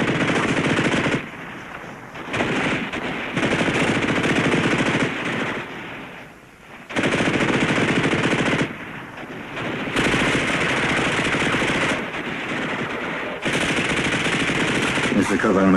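Sustained bursts of machine gun fire from a 1960s wartime combat drama crackle loudly and densely, with several brief pauses between long volleys.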